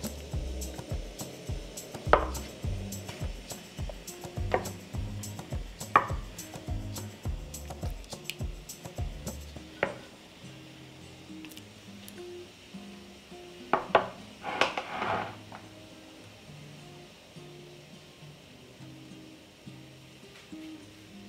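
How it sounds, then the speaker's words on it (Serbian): Glass jars lifted out of a cooking pot, with irregular clinks, knocks and clatters of glass against metal, close by, clustered in the first half, then quieter, with a few later bumps and drips. "izvadit ću tegle iz šerpe"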